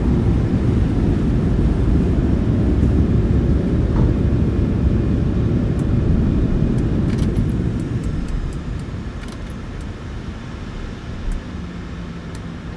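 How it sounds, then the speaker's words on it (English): Boeing 737 reverse thrust roars during the landing rollout in a flight simulator. A loud, broad rushing roar from the engines slowly fades as the jet slows, leaving faint clicks and noise. "Speed breakout. Reverse thrust."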